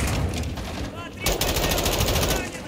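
Rapid automatic gunfire rattles continuously in a Call of Duty: Modern Warfare II firefight, loud and close, with shouting voices mixed in.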